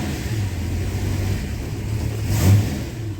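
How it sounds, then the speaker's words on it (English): An old six-cylinder car drives up the road, its engine giving a steady, mid-pitched rumble that swells briefly as it revs, with no voices. "Let's take her for a spin up the road, make sure everything's okay."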